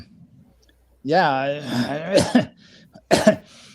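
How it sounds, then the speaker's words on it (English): A person coughs and clears their throat in a few harsh bursts, with short gaps between them, close to the microphone. "I'm starting to cough."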